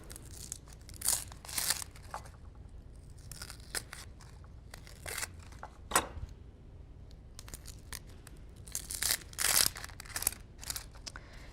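Knife slicing through an onion on a cutting board for a fajita-style taco filling, uneven crisp crunches and cuts in clusters, close and fairly quiet without talk.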